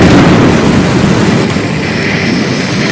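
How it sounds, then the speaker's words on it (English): Underwater explosion in the Ace Combat 7 video game: a loud, dense low rumble that surges at the start and then rolls on steadily, filling the whole stretch without any voices. "A huge explosion just went off underwater."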